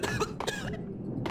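A person coughs several times in quick succession, close and fairly loud, with short harsh bursts and a brief pause before a final cough, during a Max Payne game session.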